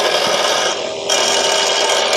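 A tiny table saw running a test cut through wood, a loud continuous high-pitched whirring grind close by, dipping briefly mid-cut before resuming.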